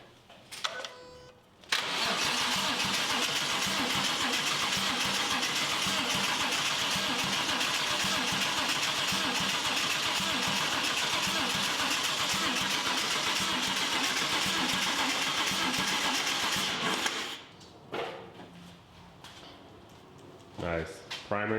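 The V8 engine of a 1965 Cobra replica Factory Five build is cranked over without firing, a steady loud starter whir lasting about fifteen seconds before stopping, with quieter shop sounds around it.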